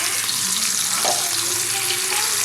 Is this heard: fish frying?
yes